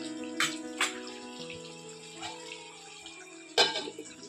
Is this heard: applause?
no